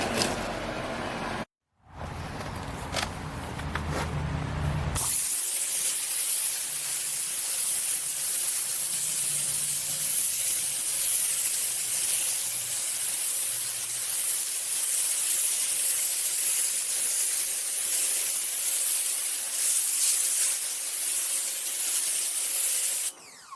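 A Powerplay SPY2030 electric pressure washer, rated 2030 psi and 1.5 GPM, sprays through a 15-degree nozzle on a driveway, giving a loud, steady hiss that runs unbroken for about twenty seconds after a short start.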